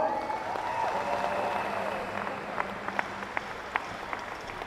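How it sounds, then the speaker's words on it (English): An audience at a school district educator motivational speech claps for a staff member, a soft, fairly distant patter that fades with a few sharper individual claps toward the end. "Give Mr. Chapa a round of applause."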